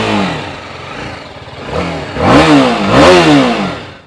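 A BMW G310 RR motorcycle exhaust burbles at idle, then revs up sharply twice in quick succession, loud and close, the pitch rising and falling with each throttle blip.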